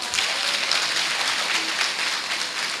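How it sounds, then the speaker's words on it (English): Audience applause at a university matriculation ceremony, a steady, dense wash of many hands clapping that holds at an even level for the whole stretch. "Shall we give him a clap?"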